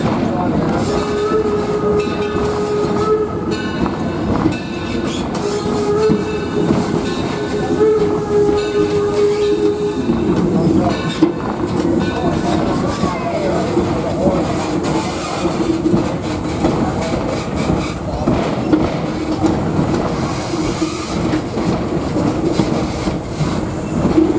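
Torch Lake Number 3, a steam train, rolls along the rails through a farm at Greenfield Village, a steady loud rumble with clattering wheels and a brief whistle-like tone, continuous for the whole stretch.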